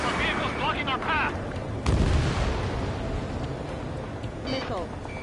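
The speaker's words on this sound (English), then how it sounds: "We're taking fire from vehicles blocking our path!" Enemy gunfire and explosions in the Ace Combat 7 flight combat game, a loud booming blast amid continuous rumbling battle noise, with radio voices and warning tones over it.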